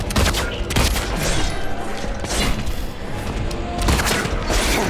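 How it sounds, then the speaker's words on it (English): Gunfire rings out in Silent Hill 2, a handful of loud, sharp reports spaced irregularly over a dense, noisy game soundscape. "I'm gonna shoot him in the head."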